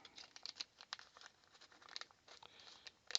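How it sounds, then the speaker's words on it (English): A small plastic bag holding electronic resistors crinkles faintly as it is opened, a quick irregular series of soft rustles and crackles, close and alone. "Let's just open one of these packs of resistors."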